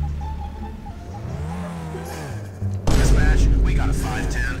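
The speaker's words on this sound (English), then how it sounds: "You just tap the throttle, it's immediately on the limiter." A 466-horsepower car in the Street Racing Syndicate game revs and bangs against its rev limiter. The engine note rises and falls, then turns loud and harsh with crackles partway through, and a voice talks over it early on.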